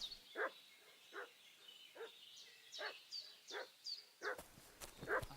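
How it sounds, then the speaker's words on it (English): A dog barks in the medieval video game Kingdom Come Deliverance II, with about eight separate barks and yips at a steady pace. They sound moderately distant and fairly quiet over a faint background. "What's that dog making such a fuss about?"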